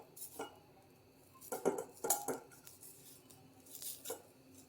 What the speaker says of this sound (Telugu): కొబ్బరి కమ్మని వాసన వచ్చేంత వరకు కాస్త ఫ్రై చేసుకోండి.